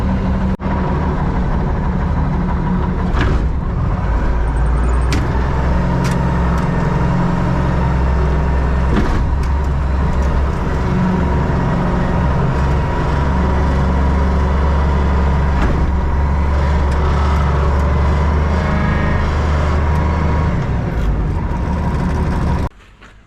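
Loader engine idling steadily for a long stretch, a loud low diesel rumble that holds constant, with scattered clicks and knocks over it and no talk, cutting off at the end.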